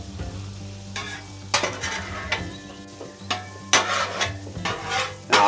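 Bacon sizzles on a hot griddle with a steady crackling fry, broken by loud scraping strokes of a spatula as the strips are pushed and lifted off the cooking surface.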